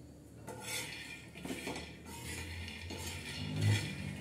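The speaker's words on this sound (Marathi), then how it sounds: "आता इकडं आपले शेंगदाणे भाजत आहे।" Peanuts dry-roasting in a pan for spicy peanut chutney, giving a steady run of metallic scraping and clinking as they are stirred and tossed, close and moderately loud with no talking.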